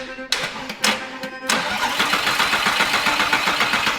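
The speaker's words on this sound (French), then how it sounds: "Nous avons décidé d'envoyer le courant directement au démarreur pour voir si le moteur allait tourner" A crash-damaged Lamborghini engine being rebuilt is cranked by feeding current straight to the starter, several short grinding bursts before it catches and settles into a steady running drone.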